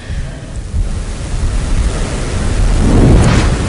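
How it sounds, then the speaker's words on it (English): Strong gusty wind ahead of an approaching tropical storm on the Mississippi coast roars in a broad, rumbling rush, building steadily louder toward the end with no voices. "the wind is continuing to pick up as we move along here"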